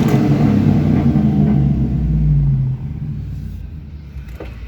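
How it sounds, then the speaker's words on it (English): A car engine fitted with a glass pack exhaust rumbles steadily, deep and fairly loud, before easing off partway through, with no talking over it. "Time for some glass pack action."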